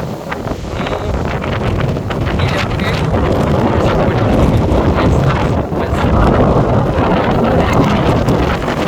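Strong, continuous wind buffeting the microphone, a loud roaring rumble that persists throughout with gusty surges and no clear speech.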